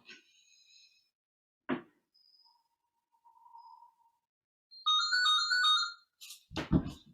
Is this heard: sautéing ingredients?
no